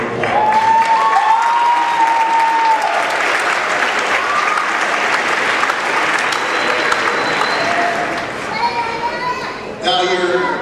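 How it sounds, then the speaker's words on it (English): High school graduation audience breaking into loud sustained applause, a dense roar of clapping with children's voices and chatter mixed in, fading slightly near the end. "give them a round of applause"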